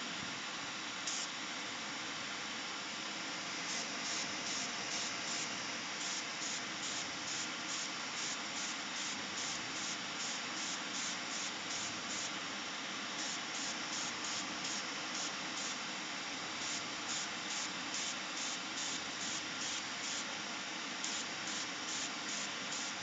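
Siphon-feed airbrush held in a skull-shaped holder, spraying paint with a steady, even hiss that runs unbroken for the whole stretch at moderate level.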